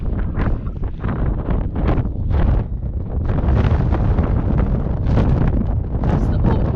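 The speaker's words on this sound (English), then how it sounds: "Probably can't hear me because it's really windy." Strong wind buffets the microphone on an exposed headland at Duncansby Lighthouse in Scotland, a loud, continuous roaring rush with gusty surges, close and overwhelming.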